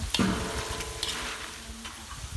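Banana slices deep-frying for homemade banana chips, a steady close bubbling sizzle with occasional stirring scrapes and clinks, no talk.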